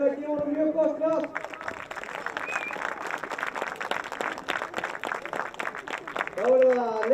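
Applause from a crowd at a youth football club awards event, steady clapping from many people running through the middle after a voice speaks at the start, with talk returning near the close.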